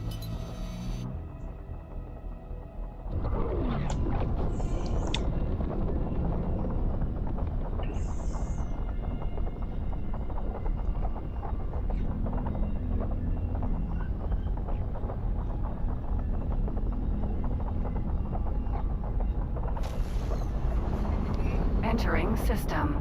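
Spaceship on autopilot passing through a jump gate in the Star Citizen video game, a low droning hum with faint tonal whooshes that swells and holds steady; a voice talks over it.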